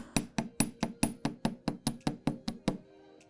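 A ball peen hammer strikes jewelry wire to texture it, giving about a dozen sharp metallic taps in a steady, quick rhythm, close and clear, followed by a short quiet tail.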